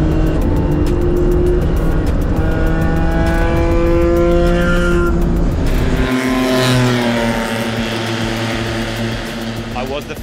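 An endurance race car on its first lap of a 24-hour race: a loud, close engine revs up through several gears in rising sweeps, then drops and climbs again.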